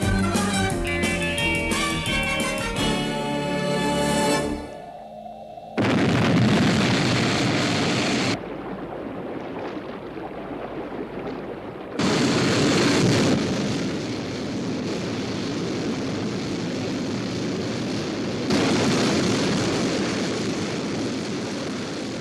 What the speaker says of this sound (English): Stand by for liftoff.